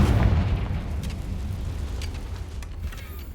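A Confringo blasting curse explodes in the Hogwarts Legacy video game, a heavy deep boom at the start that rumbles and fades over a few seconds, with faint crackling bursts after it.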